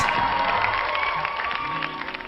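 A crowd claps and cheers in a short, continuous burst of applause. The sound is dense and moderately loud and fades slightly as it goes on.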